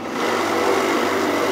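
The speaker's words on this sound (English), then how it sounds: "It's a little bit noisy, the feed." Power feed on a Schaublin SV52 milling machine gives a steady, fairly loud mechanical whine with a constant motor hum, running close and unbroken for the whole stretch with no voices.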